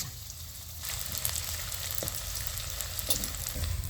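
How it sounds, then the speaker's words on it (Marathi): Edible gum (dink) fries in hot ghee with a steady, close hiss and crackle, plus occasional stirring clinks. "त्याच तुपात डिंक तळून घ्यायचा."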